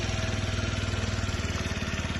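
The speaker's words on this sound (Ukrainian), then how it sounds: "Працює скутер чудово" A fuel-injected Yamaha Jog SA36 scooter engine runs steadily at idle close by, with an even, pulsing putter and no voices.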